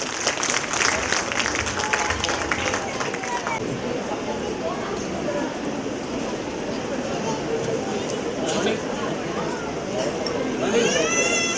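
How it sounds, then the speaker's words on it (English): Parents applaud the children at a school annual day, a broad, sustained wash of clapping from a large audience mixed with crowd chatter and hubbub, swelling again near the end. "Give them a big round of applause, dear parents."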